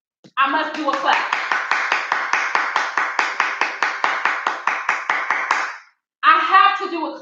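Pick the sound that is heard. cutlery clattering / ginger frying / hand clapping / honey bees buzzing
hand clapping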